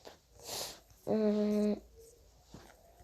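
A person with a cold gives a quick, close sniff, followed by a brief voiced hum and soft breathing in a quiet room.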